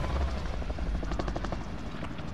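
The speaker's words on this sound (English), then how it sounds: "We're in the helicopter." Steady rotor thump and engine roar of a helicopter in the video game Warzone, loud and continuous from inside the aircraft with no voices.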